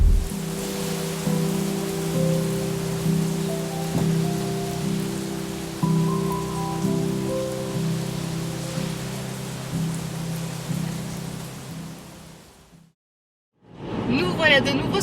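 Steady rain falling over moss-covered hills at Landmannalaugar in Iceland, a dense even patter with a low rumbling hum beneath, breaking off briefly near the end before resuming.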